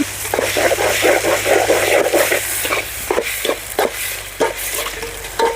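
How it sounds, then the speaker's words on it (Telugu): Half a kilo of chicken fries in oil while being stirred, a rhythmic run of scraping, clattering strokes over a steady sizzle, close up and with no talk. "ఆయిల్లో బాగా ఫ్రై చేసుకుందాం చికెన్ని"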